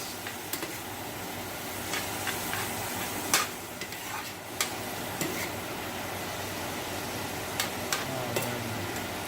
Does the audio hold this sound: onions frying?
yes